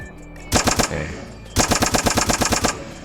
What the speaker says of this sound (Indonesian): Ini kalau kita nembak